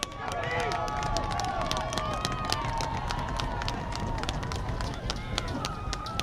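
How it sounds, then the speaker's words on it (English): A loud, steady roar from a high school football crowd fills the whole stretch, with scattered sharp claps and bangs, while an announcer talks over it throughout. "that's the crowd shaking our camera"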